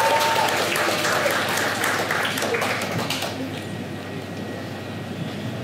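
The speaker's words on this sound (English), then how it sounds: "Please welcome her and a huge round of applause." An audience at a community night event in Dubai claps loudly for a performer welcomed on stage, the applause dense at first and then thinning and fading over several seconds.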